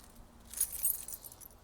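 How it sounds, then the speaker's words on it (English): A bunch of about five keys jangles briefly up close, giving a bright, soft metallic clinking that rises for a moment and then settles, with no voices. "There's about 5 keys on here"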